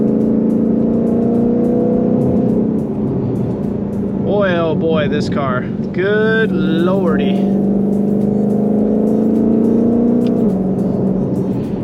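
A Ford Mustang Shelby GT500 engine drones steadily up close while it accelerates, its pitch climbing and dropping in a couple of upshifts, with someone talking excitedly over the noise in the middle.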